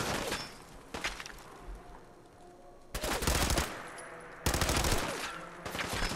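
Gunfire in Fallout 4 erupts in several loud bursts of automatic fire, with sharp volleys cracking out near the start and then heavier sustained strafing around the middle and end, set against a quieter game ambience.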